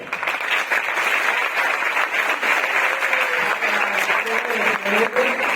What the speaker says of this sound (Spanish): voy a pedir un aplauso para María